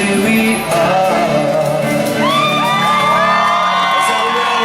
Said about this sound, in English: Let's have a round of applause for baby bride and groom on their first dance as husband and wife